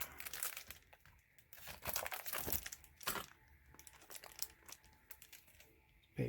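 A paper battle mat from an Aeronautica Wrath of Angels game box being unfolded, with close crinkling and rustling in irregular bursts and a few sharper crackles, no voice.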